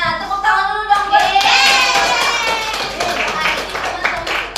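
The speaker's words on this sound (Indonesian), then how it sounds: "tepuk tangan dulu dong" A group of children in a classroom clap their hands together in a burst of applause, with voices chattering over the clapping.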